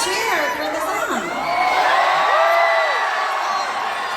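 Loud crowd at a concert in an Inglewood, Los Angeles arena cheering and screaming, high shrieks and whoops rising and swelling over a few seconds.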